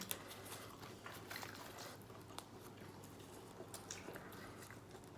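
Steady, faint rain patters continuously with scattered drips, a soft even hiss throughout and no voices.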